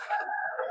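Chicken on a farm giving one short, clear crow or squawk, close by and alone, lasting under a second.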